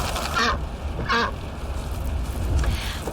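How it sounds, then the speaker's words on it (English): A duck riding in the back seat of a car quacks twice in quick succession, loud and close, over a steady low road rumble. "Oh, and we brought the duck."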